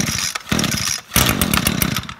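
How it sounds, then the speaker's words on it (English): An Echo string trimmer's small two-stroke engine sputters briefly in two short, rough bursts close by, catching but not running. "All right, so it tried to start,"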